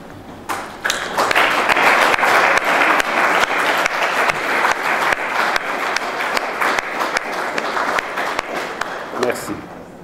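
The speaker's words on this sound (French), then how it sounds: "Je voudrais bien encore une fois qu'ils puissent se lever et les applaudir." Audience applause for West and Central African countries at the closing ceremony of the BNDE fiftieth anniversary, a sustained burst of many hands clapping that swells quickly, holds steady for several seconds and tapers near the end.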